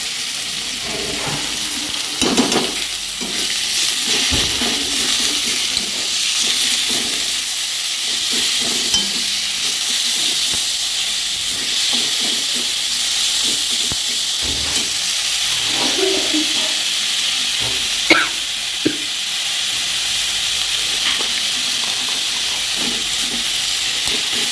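Amaranth greens frying in a pan after a garlic tempering, a loud continuous hiss and sizzle with occasional stirring knocks underneath, steady throughout.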